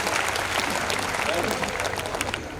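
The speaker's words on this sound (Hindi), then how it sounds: "मैं चाहता हूं कि एक बार आप संपत सरल जी के लिए जोरदार तालियां बजाकर उनका स्वागत करें।" Applause from a poetry-comedy gathering audience welcoming a poet onto the stage, a brief dense burst of many hands clapping at even loudness.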